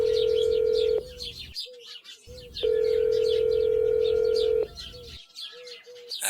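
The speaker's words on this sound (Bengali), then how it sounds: "প্রতুল মোবাইলটা তুলে নিয়ে সেই ডেলিভারি বয়টিকে আরও একবার ফোন করলো।" A mobile phone ringback tone plays as a steady tone in two long bursts separated by a pause, with birds cooing and chirping in the background, used as a sound effect in a suspense audio story.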